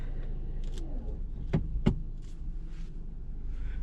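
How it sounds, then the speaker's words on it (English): Steady low engine and road rumble from inside a 2018 Porsche Macan as it is driven, with a couple of sharp clicks or knocks in the cabin and no talking. "Driving the Porsche."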